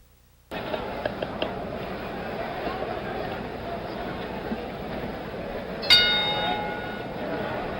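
A boxing ring bell clangs once, sharp and ringing, to signal the start of a round in a 1977 heavyweight fight, rising out of steady arena crowd noise near the end of the clip.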